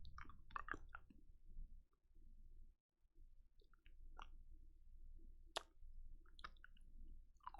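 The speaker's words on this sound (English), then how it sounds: "I'll chew some gum to distract myself." Gum being chewed close to the mouth, quiet wet smacks and small clicks in an irregular rhythm, broken by a short pause partway through over low room rumble.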